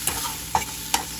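Hotdog filling sautéed in a pan, with three sharp stirring scrapes spaced about half a second apart over a soft sizzle.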